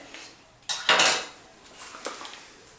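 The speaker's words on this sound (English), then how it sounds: "this way you guys can see what it sounds like when I put on a respirator" Someone puts on a respirator for resin work, producing a couple of sharp plastic clacks and rattles close by, followed by a softer clatter.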